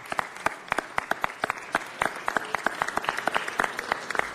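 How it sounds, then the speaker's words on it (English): Applause breaks out at a Los Angeles city council meeting, a modest crowd producing clear individual claps in a steady, even patter, close and moderately loud, with no voices over it. "Let's give them a big round of applause"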